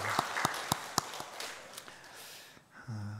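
Applause from a church congregation during a Sunday morning service is quiet and short, with a few distinct claps over a soft wash that fades out after a couple of seconds.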